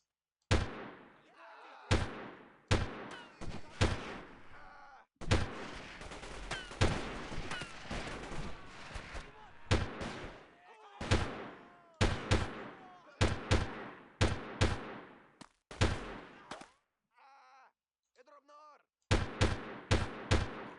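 Video game gunfire crackles in repeated sharp bursts, some rapid and clustered, others single shots, loud and close, with short gaps of silence and brief stretches of other game sound between volleys.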